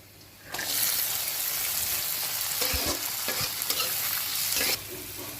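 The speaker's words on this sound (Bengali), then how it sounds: "এখন দিয়ে দিচ্ছি রাজমার বিচিগুলা।" Kidney beans tipped into a pan of frying chopped garlic and onion, setting off a sudden loud burst of hissing sizzle that holds steady, with stirring scrapes and clacks partway through before the noise drops off near the end, no talking.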